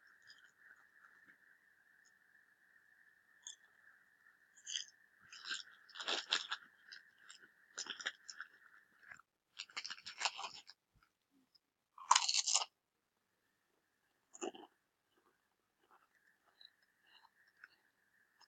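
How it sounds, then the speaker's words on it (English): Crisps being eaten close up during a round of the Roblox game Murder Mystery 2, with bursts of loud crunching and chewing scattered through the clip between quieter stretches, over a steady faint background tone. "Let's just watch this while I'm eating crisps."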